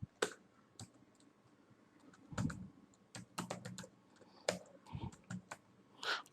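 A web address is typed on a computer keyboard: irregular, crisp key clicks, sometimes single and sometimes in quick clusters, close up and quiet with no talking.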